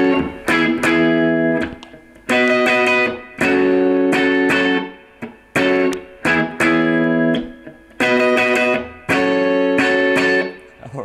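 Guitar playing the chorus of a song, loud, close, distorted-toned chords struck in repeated phrases with short gaps between, no talking.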